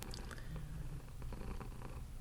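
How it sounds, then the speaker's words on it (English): A soft, steady purr rumbles close by, low and continuous with a gentle rhythmic pulse, quiet and alone. "enjoy the sweet sounds of your cat enjoying their best life"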